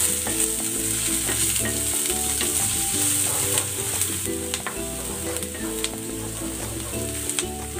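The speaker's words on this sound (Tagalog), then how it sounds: "Magigisa na ako ng bawang. At ng sibuyas." Garlic and onion sautéing in a pan for a chicken and potato dish, a loud continuous sizzle with steady stirring and scraping throughout, close and dense, with no voices.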